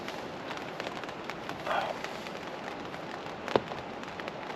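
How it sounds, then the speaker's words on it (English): Steady rain patters down around a wild campsite, a soft continuous hiss with a brief louder rustle midway and a single sharp drip or tap near the end, with no voices. "I'm just going to sit here and listen to the rain,"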